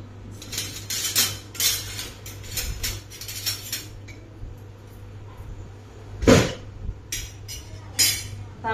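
Grated coconut sautéed for coconut barfi, with a utensil scraping and tapping against the pan in irregular bursts of clinks and one louder knock, close and without speech.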